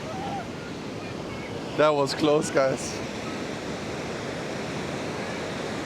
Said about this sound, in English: The ocean is very strong, guys.